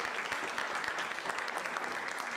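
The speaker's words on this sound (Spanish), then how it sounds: "les pido a todos que le demos un gran aplauso a Tomás" A short burst of audience applause for Tomás, steady clapping from many hands at moderate, somewhat distant level with no speech over it.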